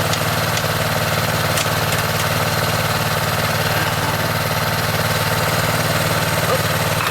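A Honda F500 rotavator with a 160cc engine runs steadily at close range, a loud continuous mid-pitched drone with rhythmic mechanical chatter and no break in its level throughout.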